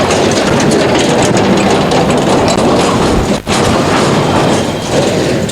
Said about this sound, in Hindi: ये ट्रैक्टर है, ये जा रहा है,